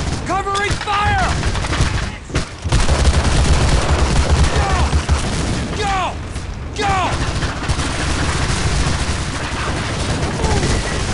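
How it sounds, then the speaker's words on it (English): Sustained covering gunfire and distant explosions in the World War II shooter Medal of Honor: Allied Assault, with dense overlapping rifle and machine-gun bursts throughout, a brief lull near the start, and shouted voices breaking through the battle. "Covering fire!"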